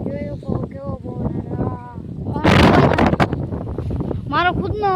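Strong wind buffets a microphone outdoors in a loud, roaring burst midway through, while someone talks close by before and after it.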